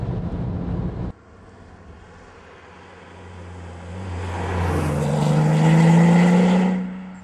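A Porsche 911 Turbo sports car on the Autobahn, heard from inside as a muffled engine drone that builds into a strong rising surge near the end, then eases off.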